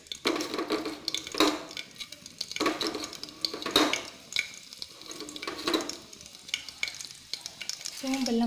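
Cinnamon and fennel seeds sizzle and crackle in hot oil in a pan while being prepared for a beef gravy, with a steady fry broken by a few louder stirring scrapes.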